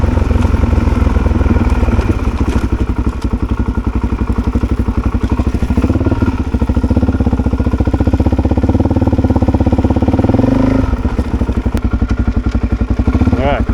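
A Suzuki DRZ400 motorcycle engine running nearby, a loud continuous thumping idle with a steady fast pulse, revving up briefly mid-clip before settling back down.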